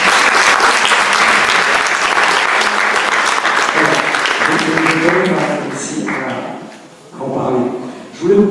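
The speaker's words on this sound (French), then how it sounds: "je tenais à le signaler parce qu'on peut l'applaudir, Madame Cassani." Loud applause from an audience at a book fair fills most of the stretch, then fades toward the end as voices and scattered claps come through.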